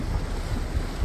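Lifeboat water shuttle leaving a cruise ship at port in Nanortalik, Greenland, heard as a steady rumbling wash of engine, water and wind noise, loud and continuous with no voices.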